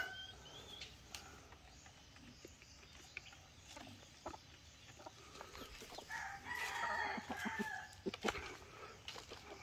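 Rhode Island Red chickens clucking as they approach, with brief crowing-like calls and soft bird chatter. The sound is fairly faint and outdoors, growing a little busier toward the end.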